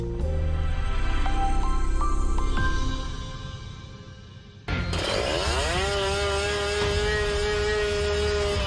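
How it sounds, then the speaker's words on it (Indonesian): Motorcycle fitted with a loud aftermarket racing exhaust, revving up through stepped gear changes, dropping off, then a sharp, buzzy blast climbing and holding at high pitch, close and very loud. "para pengguna knalpot racing atau knalpot brong yang mengganggu warga"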